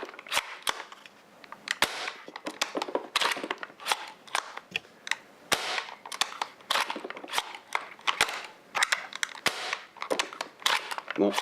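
An Amoeba Striker airsoft sniper replica fitted with a UAF piston is cocked and fired repeatedly, giving sharp close snapping shots mixed with clacking handling noises in an irregular, busy rhythm.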